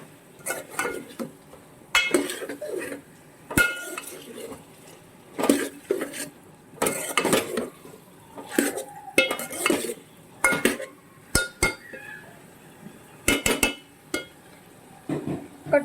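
Spoon scraping and clinking around a pot of sambar as turmeric is stirred in, a run of irregular metallic knocks and scrapes in separate bursts with short pauses between, close and fairly clear, no voices.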